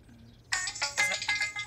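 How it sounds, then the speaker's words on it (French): A phone ringtone starts abruptly and plays a bright, warbling melodic ring pattern at moderate volume against a quiet background. "Ça sonne!"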